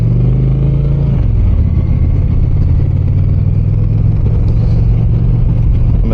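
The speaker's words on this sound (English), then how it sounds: "I'm assuming this has stock pipes on it. Sounds pretty good though." An Indian motorcycle engine on stock exhaust pipes drones loud and steady at close range, its pitch dipping slightly early on before holding a constant rumble, with no talk.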